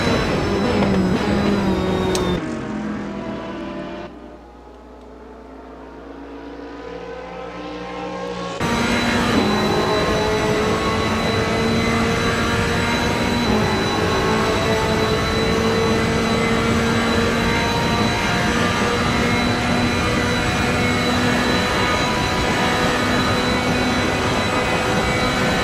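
Onboard engine of a GT race car at Monza, loud and continuous with steady harmonic drone, a brief dip as the driver lifts for a braking zone, then sustained high revs through the rest.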